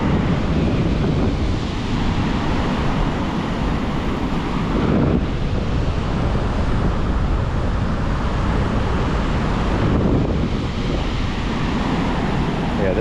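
Rough, high ocean surf pounds continuously with strong wind buffeting the microphone, a loud, steady roar of crashing waves with surges around the middle and end, heard alone without talk.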